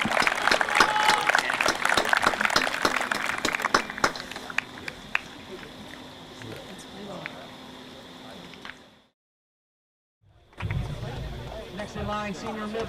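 Clapping and cheering from a crowd at a boys' high school soccer senior night honoring senior varsity players, loudest at first and then thinning out. A brief silence follows before voices and crowd noise return.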